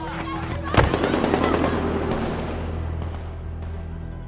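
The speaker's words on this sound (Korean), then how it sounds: "저 어디에선가 총성이 울려 퍼져옵니다" Gunfire from a film scene rings out as one sharp loud crack followed by a long echoing reverberant tail with a couple of fainter later pops, set against a low steady background.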